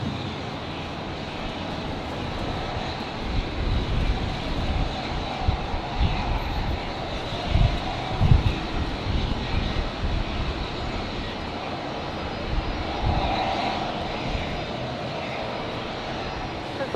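An airliner takes off from runway 19 right at Brisbane Airport on a windy day, a broad distant engine roar swelling and holding steady for the whole stretch, with faint wind noise.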